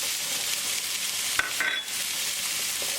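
Onion frying with garlic and green chili in a pan for baingan bharta, a steady close sizzle with a couple of brief stirring scrapes partway through, no talking.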